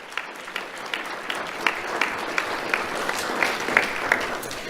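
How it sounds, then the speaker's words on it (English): A sustained round of applause from an awards ceremony audience, steady dense clapping with scattered sharper claps, continuing evenly throughout with no talk. "Let's have a round of applause for Captain Faccialonga."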